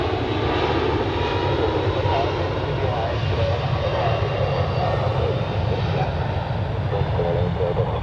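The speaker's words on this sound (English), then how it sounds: "we have the Swiss A320 Neo to London Heathrow on the runway." A Swiss Airbus A320neo sits on the runway at Zurich Airport, its jet engines giving a loud, steady, broadband roar that stays constant throughout, with faint voices in the background.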